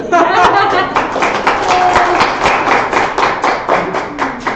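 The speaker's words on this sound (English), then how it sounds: "So we should clap" A small audience at a talk claps in a loose, uneven patter of hands, fairly close and loud, with chatter and a chuckle mixed in over the clapping.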